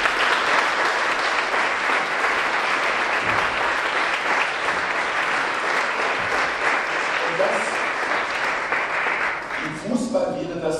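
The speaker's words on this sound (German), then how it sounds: "wir senden den ersten großen Applaus" A big audience at the Tollhaus theatre in Karlsruhe applauding in a long, dense, steady wave of clapping that fades toward the end as a voice begins talking.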